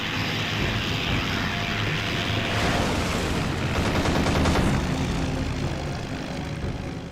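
Cannon fire from a Kyushu J7W1 Shinden fighter in the flight sim IL-2 1946, a short burst of rapid shots over steady, loud propeller engine drone during an attack run on B-29 bombers.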